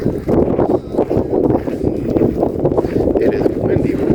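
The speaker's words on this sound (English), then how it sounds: "I turned around this corner and wind picked up" Wind gusts buffet the microphone on a hiking trail, a loud, rough, continuous rumble that swells and dips, with someone talking underneath.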